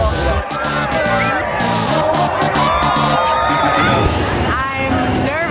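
A packed, rowdy crowd at the Miss Buffalo Chip bikini contest cheers and shouts loudly and continuously, the roar broad and close, with music and scattered voices mixed through the din.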